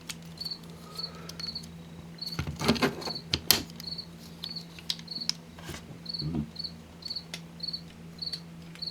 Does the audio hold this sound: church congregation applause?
no